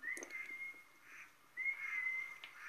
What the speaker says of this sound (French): l'arbitre qui siffle les 3 coups